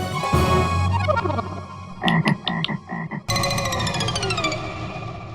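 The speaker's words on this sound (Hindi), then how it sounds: "अबे मेंढक है ये।" Rapid, harsh croaking calls come in bursts, with a short stuttering series of croaks in the middle, loud and close against a steady background.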